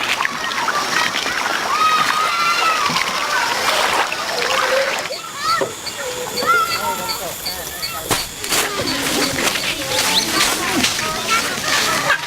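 People swimming in an Amazon river where the Kayapo bathe, with steady splashing and sloshing water close by, broken by bursts of splatter and overlapping voices shouting and chattering throughout.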